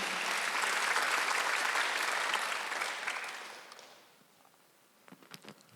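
A congregation at a Sunday church service applauds in a dense, steady wash of clapping that fades away after a few seconds, leaving scattered soft sounds.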